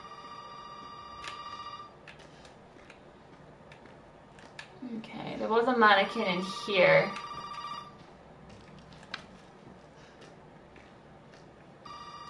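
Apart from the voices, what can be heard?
telephone ringing in video game Resident Evil 7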